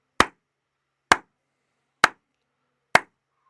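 Four sharp hand claps spaced evenly about a second apart, each crisp and close, with silence between them and no talking.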